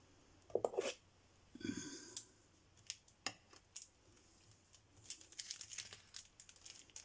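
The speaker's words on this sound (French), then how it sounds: "je vais juste découper un petit morceau pour mettre sur le côté" Scissors snip a small piece of craft material for a shabby steampunk mixed-media project, a few close, crisp cuts and crinkles scattered among quiet handling noises.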